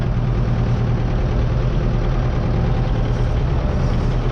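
A tractor engine idles close by, a loud, steady low throb with an even mechanical chug that holds unchanged throughout.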